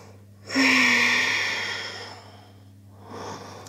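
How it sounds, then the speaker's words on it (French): A single deep, audible breath during a slow yoga flow, a long close exhale that fades out, followed by a softer second breath starting. "Garde une respiration fluide."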